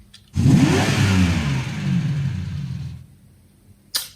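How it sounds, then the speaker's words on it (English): A toy Lamborghini car's engine revs loudly for about two and a half seconds, a close, continuous roaring vroom that swells then fades, followed by a short click near the end. "let me play the sound of the baby Lamborghini"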